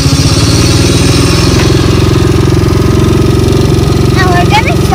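A quad bike engine running close by, a loud steady throbbing idle with a constant rhythmic pulse throughout, a few faint high squeaks near the end.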